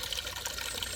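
Water trickles and pours steadily as a bottle is filled at a mountain spring along the GR 11 trail in the Pyrenees, a soft, continuous flow heard alone at low level.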